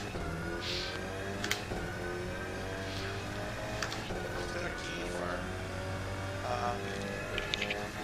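A race car engine in the rFactor 2 racing simulator on a motion platform, a steady droning hum at low volume with small rev swells and faint clicks, while a voice talks faintly in the background.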